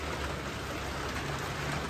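Steady rain falls outside among farm greenhouses, a dense, even hiss of drops pattering on surfaces with no let-up and no voices.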